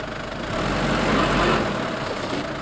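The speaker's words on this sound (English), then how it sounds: "Tyres just spinning." Sprinter van stuck in sand, its engine revving steadily as the tyres spin in place, a continuous close rumbling drone that swells slightly midway and holds without a break.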